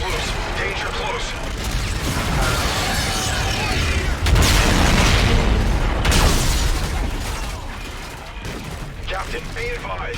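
Jackal fighter air strike explosions in Call of Duty Infinite Warfare, heavy continuous booms and rumbling blasts mixed with gunfire and mechanical battle noise, with voices shouting over the chaos.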